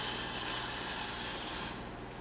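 Water poured into a cooking pot for rice at home, a steady hissing splash that carries for most of the pour and then drops away as the stream thins near the end.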